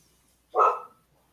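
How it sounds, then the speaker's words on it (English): A single short, loud bark from a dog, close by and clear against a quiet background. "That's not my dog. That's my dog."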